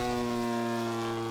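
A giant scale Top-Flite P47 Razorback RC model plane making a pass over the field: a steady, droning engine tone with strong harmonics, loud and sustained throughout the brief moment.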